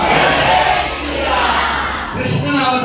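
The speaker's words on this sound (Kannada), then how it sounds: "ಚಪ್ಪಾಳೆ ಅವರಿಗೆ." A crowd at an ISKCON devotional bhajan and puja gathering claps and cheers, a loud, dense, continuous wash of noise that swells and dips slightly over a few seconds.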